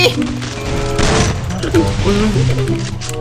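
Rapid gunfire bursts from the Free Fire battle-royale video game, loud and dense, with a crash-like burst near the middle, mixed under excited game chatter.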